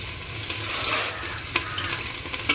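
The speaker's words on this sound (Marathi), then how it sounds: "तेल गरम झालेलं आहे त्यामध्ये थोडासा कांदा निघायला घालणार आहे" Onion fries in hot oil in a pan with a constant close sizzle, punctuated by a few sharp clinks and scrapes of a stirring spoon.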